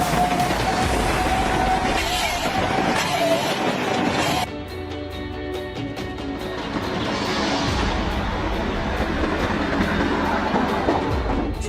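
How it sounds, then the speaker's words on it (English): A train rolls along a railway track with a broad, continuous rumble and rattling clatter, a high squeal early on, then a steadier rolling roar with rhythmic clicks. "seeing a train unlike any other slowly rolling along the track"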